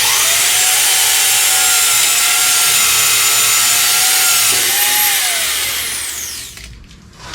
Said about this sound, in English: we're going to start by trying to drill a small pilot hole through this from the inside